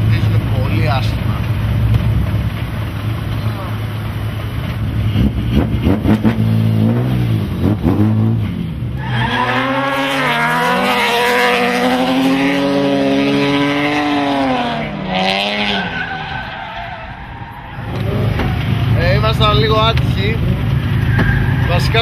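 A BMW M3 E36 wagon with a six-cylinder engine and free-flow exhaust drifts, its loud, raw engine revving up and down in long sweeping pulls with brief lifts, close by, while people talk over it.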